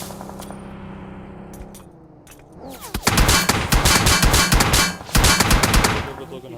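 Rapid bursts of automatic gunfire in a competitive mobile battle royale match start after a quieter opening and continue densely, loud and close, with faint talk underneath.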